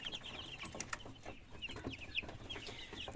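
Young chicks cheep and peep in quick, high, scattered calls, faint and close, overlapping one another in an irregular chorus with no talk.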